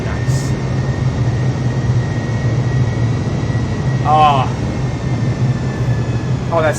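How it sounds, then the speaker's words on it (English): Jet engine in Microsoft Flight Simulator 2020, a steady low roar and hum continuing throughout at moderate loudness, with a few brief voice fragments over it. "Oh, that sweet jet engine sound."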